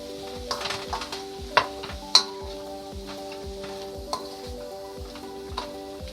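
Brown stew chicken frying in a pot with garlic powder and salt, a steady soft sizzle with occasional stirring clinks and scrapes, close and moderately quiet, no talking.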